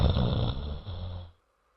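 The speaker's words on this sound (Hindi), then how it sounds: "आंगन में उसकी सास सुगंधा, ससुर भवेश और नंद टीना आराम से खर्राटे मारकर सो रहे थे।" Cartoon characters snore while asleep, a brief rough rasping breath that fades into silence, heard alone and close.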